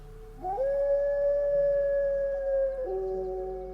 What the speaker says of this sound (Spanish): hasta que emitió un aullido largo